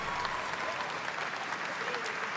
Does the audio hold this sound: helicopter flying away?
no